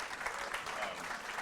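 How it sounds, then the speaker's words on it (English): Faint, distant audience applause at a small business pitch event, an even patter of clapping heard briefly with no talk over it. "Give a round of applause."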